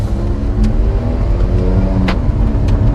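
An Alfa Romeo 4C Spider accelerating through the gears, its engine a loud, steady, close growl that holds throughout with no break, heard alone without talk.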